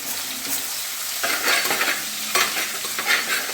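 Green chillies, garlic and ginger sauté in hot oil in a pan for a fish curry, giving a steady, close sizzle broken by louder bursts as the spatula stirs them.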